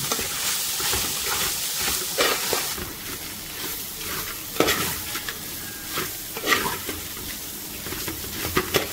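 Pounded beef is stirred continuously in a hot pan, with steady sizzling frying noise and repeated scraping and clattering strokes of the spoon close by.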